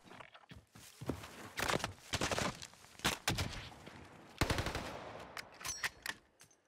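Rapid bursts of gunfire in the video game Warzone crackle in loud, uneven volleys with short gaps, some shots closer and sharper than others, and no talking over them.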